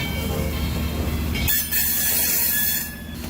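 A train moves along the tracks nearby, with a low rumble of rolling wheels and then a bright, high wheel squeal that holds for over a second.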